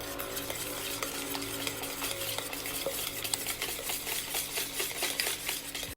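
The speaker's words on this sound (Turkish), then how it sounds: "Ayrı bir kapta 4 tane yumurtayı 1 su bardağı şekerle çırpıyoruz." Four eggs whisked with a glass of sugar in a separate bowl for a white chocolate brownie, a rapid, even rhythm of whisk strokes clicking against the bowl, steady and close.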